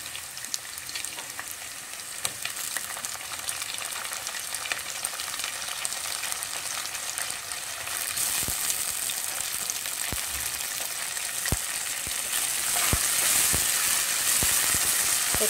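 Onions frying with coriander leaves and fenugreek for a country chicken curry: a steady, close sizzle with scattered stirring scrapes and crackles that grows a little louder toward the end, no voices.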